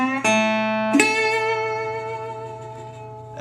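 An acoustic guitar plays the closing lick of a Delta blues song, two sharp plucked attacks whose ringing notes sustain and slowly fade, heard alone and up close.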